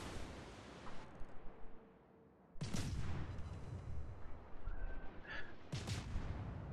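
Naval guns firing in the World of Warships game: two heavy, booming salvos, each with a broad rumbling tail, rise out of a steady game background.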